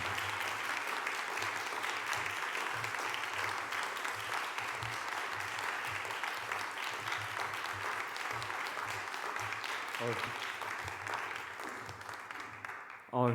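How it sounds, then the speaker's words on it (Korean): A church congregation at a Friday worship service applauds together, a dense, steady wash of clapping lasting many seconds, fading slightly toward the end with a few voices mixed in. "나 나오실 때 한번 큰 박수."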